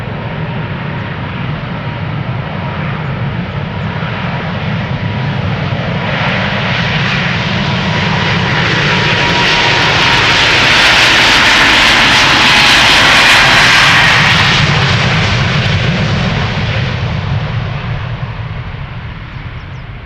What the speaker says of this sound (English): KLM flight 791 to Sao Paulo